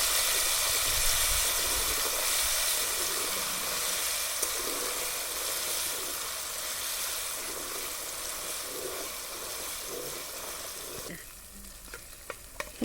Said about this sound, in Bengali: মশলাটা দেখো ভাজা হয়ে গেছে।